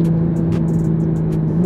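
A JB4-tuned Toyota Supra under hard acceleration, a steady loud engine drone with strong low harmonics holding throughout, heard from inside the car with no talk.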